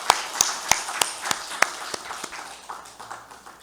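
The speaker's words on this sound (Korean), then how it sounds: "우리 시온 찬양대 위에서 격려의 박수 한번 하도록 하겠습니다." A church congregation applauding its choir during a Sunday service: a slow, even rhythm of distinct single claps, crisp and fairly close at first, then softening into fainter, more scattered clapping toward the end.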